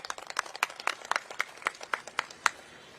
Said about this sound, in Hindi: इनके लिए तालियां बजा दीजिए